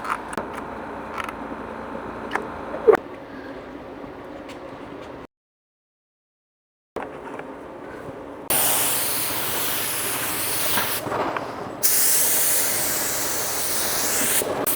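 LVLP paint gun spraying urethane sealer onto a bumper cover, with loud bursts of steady airy hiss from the gun separated by quieter handling noises, a brief silence and small clicks.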